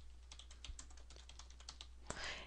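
Fingers type on a computer keyboard while entering text in AutoCAD, producing a quick, uneven run of light clicking keystrokes, close and alone, ending in one louder key press and a short burst of noise.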